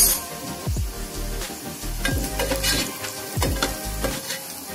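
Onions frying in hot oil for mutton nalli nihari, a steady close sizzle with repeated scraping stirs of a spoon against the pan and a few low knocks, no voices.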